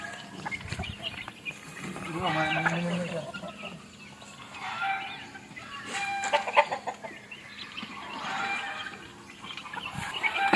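Chickens and chicks cluck and peep in rising and falling bursts, with a person talking intermittently over the birds.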